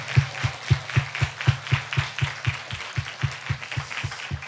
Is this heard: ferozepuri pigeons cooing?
no